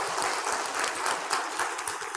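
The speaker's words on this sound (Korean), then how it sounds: "박수해 주시기 바랍니다." A church congregation applauds the choir during a Sunday service, a steady wash of many hands clapping that holds at even strength throughout, with no one talking over it.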